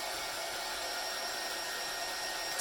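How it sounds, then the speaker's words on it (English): A handheld blow dryer runs steadily on a freshly applied transfer, a continuous close, even whooshing roar with no pauses or talk. "Just going to hit it with a dryer. You can use a blow dryer."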